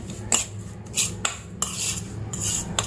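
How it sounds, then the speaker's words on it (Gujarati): A metal spoon stirs spice masala into green chilli pickle, giving several sharp scraping clinks against the bowl at uneven intervals, close and fairly loud with no talk. "હવે આને આપણે ચમચીથી મિક્સ કરી લઈશું એકદમ સરસ રીતે"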